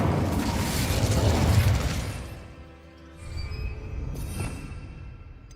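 An Incendio fire spell cast in Hogwarts Legacy, a loud roaring whoosh of flame and a burst that fade after about two seconds, followed by a softer second rumble and some crackling.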